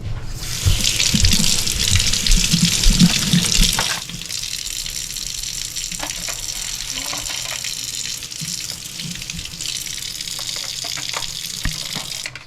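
Tap water runs steadily into a sink as rocks for a baby chick waterer are washed, a loud gushing flow for the first four seconds that then eases to a softer, continuous stream with small clinks.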